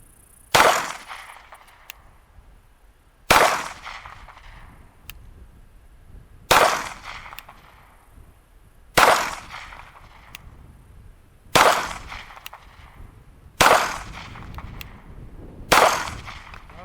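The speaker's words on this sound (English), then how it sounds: "We're going to go ahead and just shoot a little 10-shot group before we head home." A Sig Sauer SP 2022 9mm pistol fires a slow, steady string of seven sharp, loud shots a couple of seconds apart at an outdoor range, each crack ringing briefly before fading.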